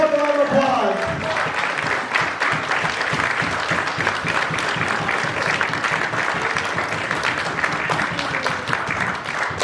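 Dense, sustained audience applause fills a magic and mind-reading stage show, loud and continuous throughout, with a brief voice over the start.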